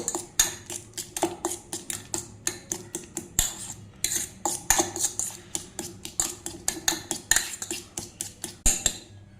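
A metal spoon mashes warm food in a bowl, making quick, repeated clinks and scrapes against the dish in an uneven rhythm. The sound is close and clear, with no speech.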